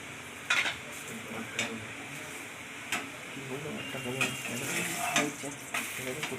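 Moong dal paratha fries in oil on a pan with a continuous soft sizzle, punctuated by repeated light clinks and scrapes of a utensil, while someone speaks intermittently over the cooking.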